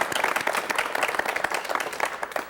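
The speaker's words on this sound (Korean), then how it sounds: "박수로 맞이해 주십시오" Studio audience on a 1985 KBS talk program claps to welcome a guest from China, a brisk, medium-loud patter of many hands with individual claps audible in the mix.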